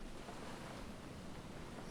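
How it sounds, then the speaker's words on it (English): Wind and ocean waves in the survival video game Stranded Deep form a steady, faint, broadband rush of surf and gusting air, continuous for two seconds without talk. "The wind's picking up."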